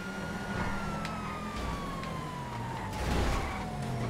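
A police siren sounds in GTA FiveM, a faint, slowly falling wail heard over the steady roar of car engines and road noise.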